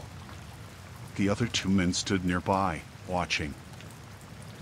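Steady rainfall on a dark night, a constant soft hiss running beneath a narrator reading a story aloud.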